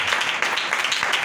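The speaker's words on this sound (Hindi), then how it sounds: "आए हम जोरदार ताली बजाएं खुदा के कलाम की।" Church congregation applauding during a Sunday morning service, a continuous, moderately quiet patter of many hands clapping at once, steady from start to finish.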